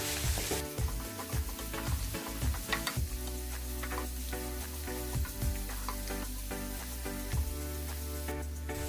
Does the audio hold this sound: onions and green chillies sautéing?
yes